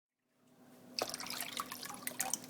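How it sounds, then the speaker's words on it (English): Water is poured over an unopened can sitting in a slow cooker, starting with a faint trickle and then becoming a steady splashing pour close by, with no talking. "Now you want to cover it with water."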